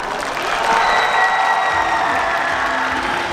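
A packed audience applauds at a film festival open talk for the film Broker at the Busan International Film Festival, producing a loud, sustained wash of clapping with faint cheers mixed in.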